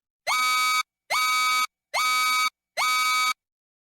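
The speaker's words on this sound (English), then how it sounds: "Repetitive beep selected." An insulin pump alarm set to a repetitive beep gives four evenly spaced, bright buzzy electronic beeps, each about half a second long with short silences between them.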